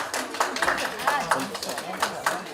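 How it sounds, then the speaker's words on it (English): Applause from a live audience after a fashion show, a dense crowd clapping steadily for a couple of seconds at moderate volume with a faint voice underneath. "Can I just have a quick round of applause for the wonderful, wonderful, beautiful show we saw tonight?"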